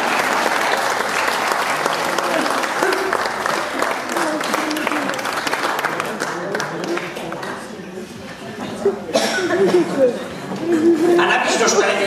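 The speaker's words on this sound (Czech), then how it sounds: "můžete si zatleskat." Audience at a seniors' gathering in Vlčkovice v Podkrkonoší applauding loudly, continuous clapping mixed with chatter and light laughter that briefly eases before swelling again, with voices speaking over it.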